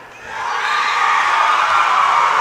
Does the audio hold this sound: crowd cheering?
yes